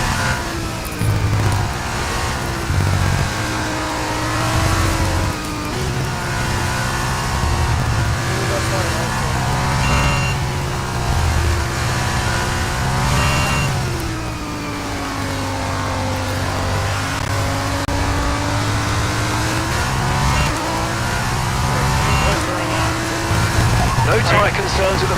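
F2 race cars in the F1 23 video game drone steadily through a feature race, engine pitch rising and falling as they accelerate and shift, with commentary and radio talk running over the whole stretch.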